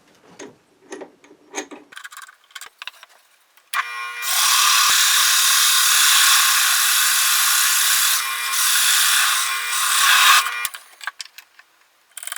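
A power drill driving a hole saw without a center drill cuts a wooden toy wheel, a loud continuous whirring grind lasting several seconds, framed by short knocks and handling noises before and after.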